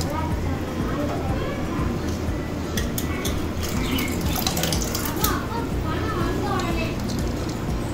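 Rinsed, chopped banana flower drains in a colander, giving a steady splash and trickle of running water with clinks of handling, under continuous talk.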